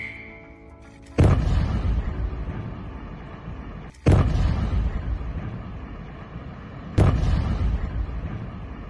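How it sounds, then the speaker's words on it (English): Explosive charges demolishing a building go off as three heavy, sharp booms about three seconds apart, each followed by a long rolling rumble that fills the space. "That will help mitigate dust spread during the explosion."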